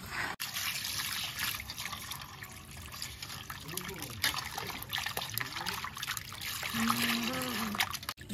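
Tap water trickles and splashes steadily while Lote fish is washed clean by hand, with a faint voice and low background hum underneath.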